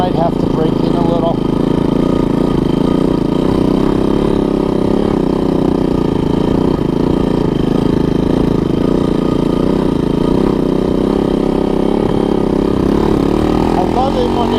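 A Honda ATC 200 three-wheeler, a long-abandoned machine just revived, runs steadily at idle with a constant mid-pitched engine drone throughout, fairly loud and close, with no speech over it.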